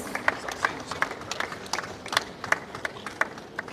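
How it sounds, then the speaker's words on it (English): Audience at an international organic farming conference in a hall, clapping for a district award, with rhythmic, fairly distinct claps at a moderate distance and some voices underneath. "Another well-deserved round of applause for West Garo Hills."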